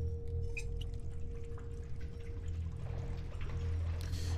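Water runs steadily from a tap in the horror game Song of Horror, a quiet continuous pouring and trickling with a faint steady tone beneath it.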